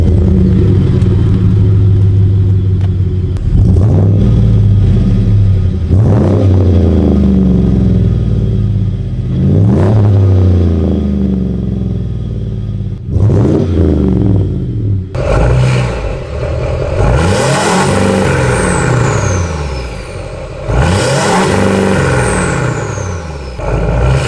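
A diesel pickup truck engine is started and left running loud and close. A heavy rumbling idle is broken by several revving surges, and the revs rise higher toward the end.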